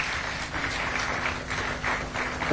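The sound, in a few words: audience applause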